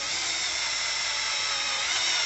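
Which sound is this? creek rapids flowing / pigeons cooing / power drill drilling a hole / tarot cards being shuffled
power drill drilling a hole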